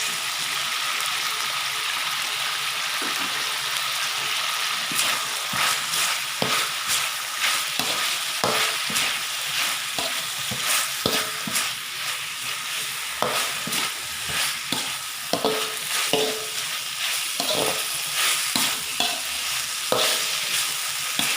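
Pork and holy basil leaves stir-fried in a hot pan, a steady close sizzle with repeated scraping and tossing strokes of the spatula running throughout.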